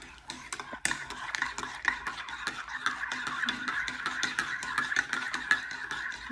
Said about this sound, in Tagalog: So, haluin na natin.